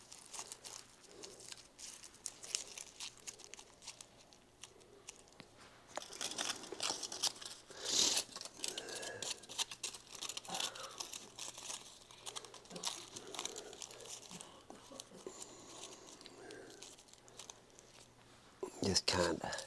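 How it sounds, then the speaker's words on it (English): Aluminum foil crinkles and crunches as it is wrapped around a fig air layer, with intermittent rustling bursts, louder around the middle and end, under steady talking. "now let's get some aluminum foil on it"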